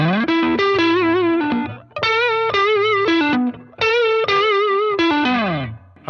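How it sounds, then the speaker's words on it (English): Electric guitar through a Boss Katana 100 combo amp with an emulated Tube Screamer overdrive on a clean channel, warm and bluesy with bends, loud and close, in short bursts separated by brief pauses. "that's just a tube screamer emulated through a clean amplifier"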